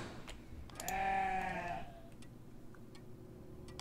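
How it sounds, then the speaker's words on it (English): A sheep in a puppet horror video game gives one clear, wavering bleat of about a second, moderately close, with faint clicks and a quiet room tone around it. "That's a sheep, right?"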